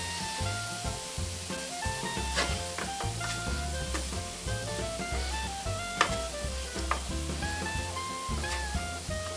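Beaten egg and flour stirred while frying in a pan for murtağa, a Van dish, giving a continuous sizzle with scraping stirs and occasional utensil clicks under background music.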